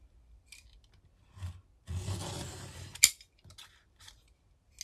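Paper being cut with a trimmer blade while preparing journal signatures, a quiet scraping slice lasting about a second followed by a sharp click, with faint handling rustles around it in a quiet room.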